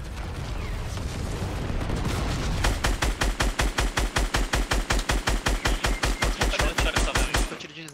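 Rapid automatic gunfire from an online shooter game, a dense burst of loud, evenly spaced shots that settles into a steady rhythmic stream of reports for several seconds before stopping abruptly.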